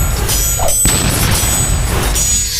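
Sword clash impacts in an audio drama fight, a heavy booming crash with a rumbling low roar that sustains across the whole stretch, loud and close.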